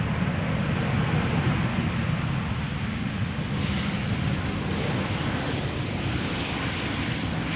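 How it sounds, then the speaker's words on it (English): A KLM Boeing 737-700 arrives at Amsterdam Schiphol from Geneva, a loud, steady jet engine roar with deep rumble filling the whole stretch and no voices. "KLM flight 1926, 737-700, returning from Geneva."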